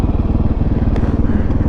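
A dirt bike engine revs hard at close range, with a dense, buzzing putter. A short gear change interrupts it near the middle, and no voice is heard over the engine.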